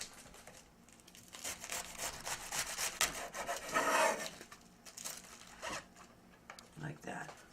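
Knife shaving the rounded bottoms off lettuce wedges so they sit flat for a lobster wedge salad bowl, giving a close, rough rasping scrape that builds and fades over several seconds amid some handling noise.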